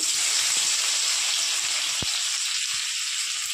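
A bay leaf and crushed garlic sizzle in hot oil, a loud, steady frying hiss throughout, with a few faint clicks of stirring.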